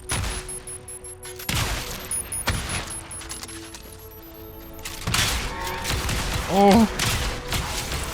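Turret fire in a video game, bursts of rapid shots and thuds in separate bursts, with a brief startled voice near the end.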